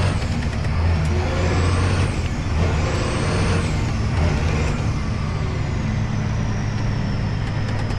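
A bobtailed semi truck drives with no trailer, its engine roaring loud and close while air brakes hiss and whine in sweeping rises and falls, a steady heavy rumble underneath and no talk.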